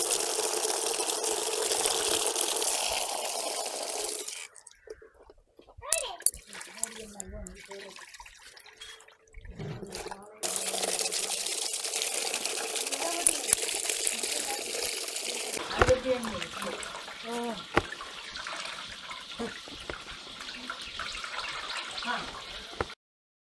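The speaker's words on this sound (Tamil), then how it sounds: "தக்காளி பழமும் முழுசாக நல்ல வடிவாக கழுவ வேணும்." Tomatoes are washed by hand in water at a village home kitchen in Jaffna, Sri Lanka, with splashing, sloshing and dripping that come and go in bursts, close by and fairly soft, broken by a quieter pause.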